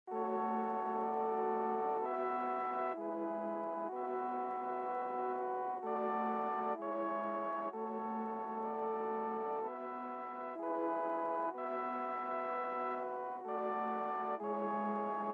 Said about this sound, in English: I laid down this pretty simple chord progression with a few switch ups,